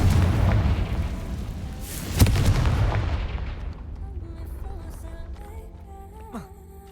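A Confringo fire spell blast in the video game Hogwarts Legacy, a loud booming explosion with a sharp crack partway through, then rumbling debris fading into quieter game ambience.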